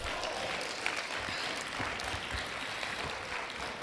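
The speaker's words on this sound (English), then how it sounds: "Give yourselves a round of applause." An audience at a child labour forum claps steadily throughout, a moderately quiet, even wash of applause with a few sharper individual claps standing out.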